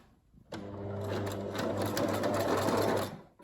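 A sewing machine stitches pintucks in fabric, running in a steady, continuous hum with a fast even mechanical rhythm for about two and a half seconds before stopping.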